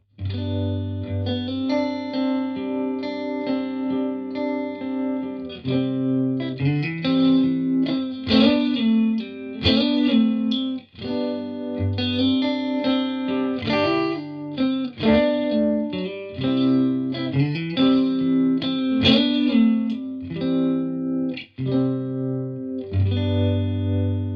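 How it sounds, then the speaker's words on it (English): Electric guitar chords and riffs run through the tremolo setting of a Zander Circuitry Junipero modulation pedal, the volume wavering rhythmically throughout, loud and close with no talking. "the fifth modulation effect is a tremolo"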